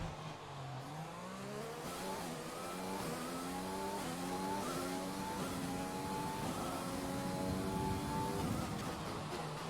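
A Formula 1 car in the racing game F1 2020 runs at speed through a DRS zone, its engine note rising steadily through the gears in a continuous close whine with no talk.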